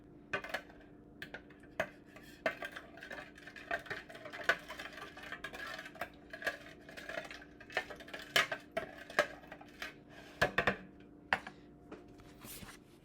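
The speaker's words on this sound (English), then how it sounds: "Grab a spoon. You're going to stir it to make it combine" A spoon stirs a soft pretzel mixture in a bowl, giving light, irregular clinks and scrapes against the bowl over a faint steady hum.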